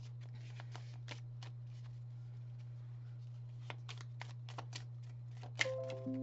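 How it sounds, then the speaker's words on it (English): Tarot cards being shuffled by hand, a series of quick papery riffles and flicks over a steady low electrical hum, close and fairly soft, with a brief louder rustle near the end. "let's shuffle and see"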